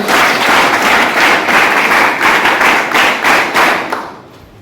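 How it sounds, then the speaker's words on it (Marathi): Loud audience applause at a school awards ceremony, many hands clapping together in a dense burst that continues for a few seconds before fading out. "तिच्या एक जोरदार टाळ्या"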